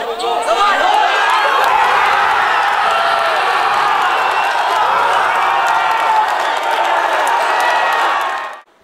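Football fans roar and cheer as a dense crowd in a city square, a loud sustained wall of shouting and whooping that holds for several seconds before cutting off abruptly.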